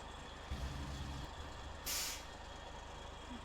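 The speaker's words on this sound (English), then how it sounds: "Good parking brake, look at that." A truck's parking air brake in the video game SnowRunner lets out one short, loud hiss of released air over a low, steady engine idle, after a brief clunk.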